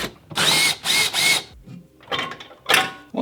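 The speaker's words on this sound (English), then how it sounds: "So next we want to do is remove 4 10mm bolts." A power tool whirs in three short close bursts, then a few quieter clicks and ratcheting spins, as 10mm bolts come out of an amplifier inside a Tesla Model Y.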